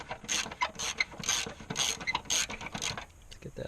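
A hand ratchet clicks rapidly in short bursts while loosening a valve cover bolt on a Subaru engine, crisp close metallic ticking with brief pauses between strokes.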